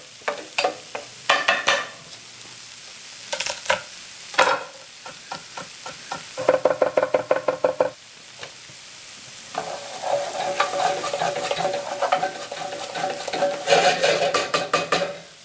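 Garlic sautés in a pan as it is stirred, with a close, steady sizzle broken by bursts of rapid scraping and clinking from the utensil against the pan, rising into a busier sizzle toward the end.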